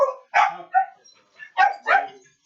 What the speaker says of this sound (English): I have got dogs barking like crazy